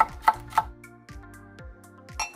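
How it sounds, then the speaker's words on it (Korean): A knife slices a single red chili pepper on a cutting board, making three quick, sharp chops close up, then softer taps and a final cut, all over light background music. "홍고추 1개를 썰어줍니다."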